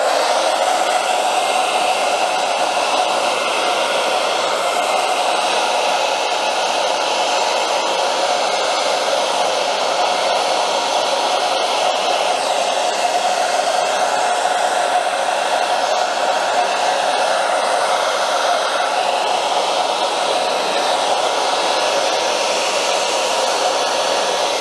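A blow dryer runs in one steady, loud whoosh close by as it heats sole protectors on Air Jordan 11 "Jubilee" sneakers. It drones evenly for the whole stretch with no voices.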